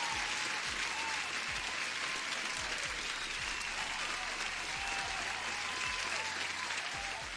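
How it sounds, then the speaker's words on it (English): A crowd claps in sustained, even applause, a dense wash of hand claps that holds steady at moderate loudness from start to finish. "Huge applause for you guys."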